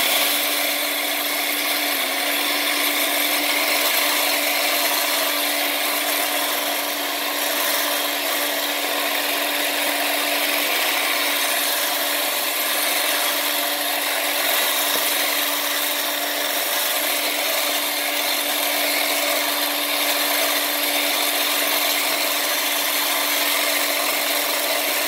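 An electric hand whisk mixes keto bread batter in a bowl, giving a steady, close, droning motor whine with a constant pitched hum that runs unbroken throughout, no speech.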